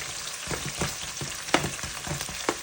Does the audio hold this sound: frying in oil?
yes